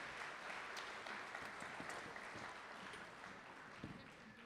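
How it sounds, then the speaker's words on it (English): A jazz concert audience applauds in a steady wash of dense clapping that holds through the whole stretch, heard faint and distant, with no talk over it. "So if you guys please give them a round of applause for helping out tonight."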